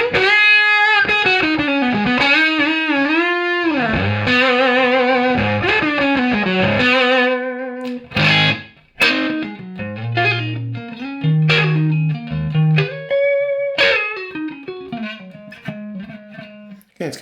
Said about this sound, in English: if you just get the fuzz knob and pull it back a little bit, it'll actually start to warm up